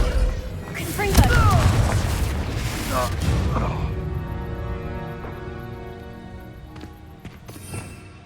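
Confringo blast spell in the Hogwarts Legacy video game, a loud booming explosion early on with rumbling debris, fading into a long decaying tail over ambient game music.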